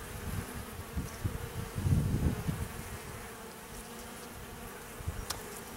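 Honey bees buzz continuously around an open hive during an inspection, a dense close drone that swells and fades with a louder patch near the start.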